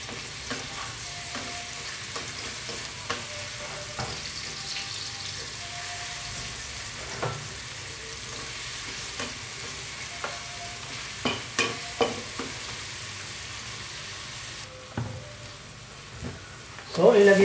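Garlic and onion sautéing in a pan for chicken arroz caldo, a steady sizzle with scattered clinks and scrapes of stirring throughout, louder bumps near the end.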